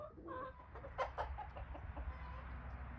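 Chickens cluck softly nearby, a few short, scattered clucks over a low background rumble.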